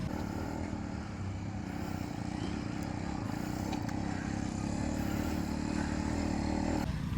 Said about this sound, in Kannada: ನಿಮ್ಗೆ ಸೌಂಡ್ ನೋಡಿದರೆ ಸೈಲೆನ್ಸರ್ ಸೌಂಡು